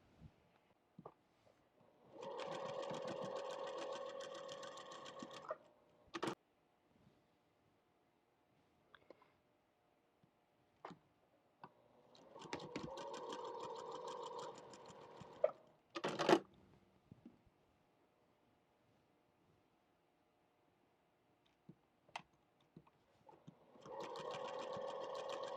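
A sewing machine stitching fabric for a quilted mug rug runs in three separate bursts of a few seconds each, a quiet rapid whirring chatter, with small clicks and handling knocks in the gaps between runs.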